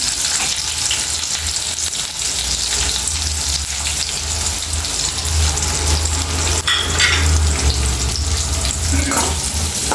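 Green chillies and onions frying in oil for a bitter gourd fry, giving a steady, continuous sizzle with faint clinks of utensils, no voices over it.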